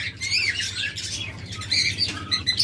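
Lovebirds and cockatiels squawking in a bird shop, with a dense chatter of sharp, high calls and chirps overlapping at close range throughout.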